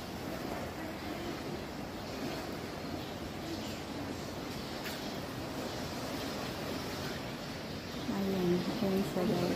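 Ocean waves wash along the seashore at a port, a steady broadband surf rush mixed with wind noise, continuous and moderately loud, swelling slightly near the end.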